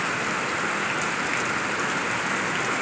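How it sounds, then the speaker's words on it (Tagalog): Heavy rain pours down in a dense, constant hiss, steady and unbroken with no voices. "Sobrang lakas ng ulan"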